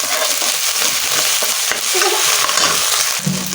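Cumin, ginger and garlic paste sauté loudly in a pan, a dense close sizzle with constant stirring and scraping of the spatula, no voices.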